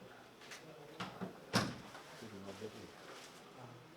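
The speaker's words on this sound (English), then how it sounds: "Now it's just a matter of putting my doors back on." Metal service doors being refitted onto a heat pump unit: a series of light knocks and clunks, one sharper bang in the middle, with handling rattles and faint voices in the background.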